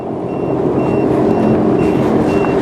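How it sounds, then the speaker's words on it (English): A navigation device gives a thin electronic hazard-warning beep at a steady pace, about five short tones, over a loud continuous low rumble on the water. "that thing is beeping again, just like it did before, right at the same place, potential hazard ahead"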